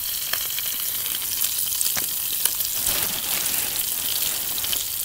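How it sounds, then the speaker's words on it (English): Cauliflower mushroom (Sparassis) sautéing in a pan: steady close sizzling and crackling with scattered small pops throughout, no voices. "There's our sauteed mushroom."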